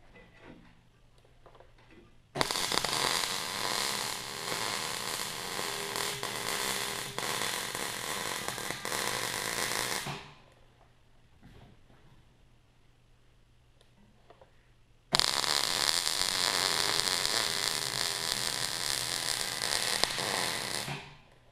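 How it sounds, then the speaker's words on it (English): Steel tracks being welded in two long bursts of loud, broadband crackling and hissing, each lasting several seconds with a steady low hum in the quieter gap between them. "Okay, then we can go ahead and weld that solid."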